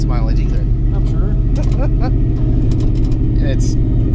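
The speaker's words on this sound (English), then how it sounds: "People just cannot believe, first of all, that the car sounds this way" A Coyote V8-swapped wagon rumbles steadily up close, its deep, continuous engine drone loud beneath people talking.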